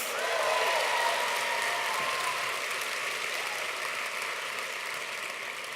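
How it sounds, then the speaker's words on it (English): Sustained applause from a large audience at a tech summit welcome session in San Francisco, dense and steady throughout, slowly tapering toward the end. "round of applause for everyone"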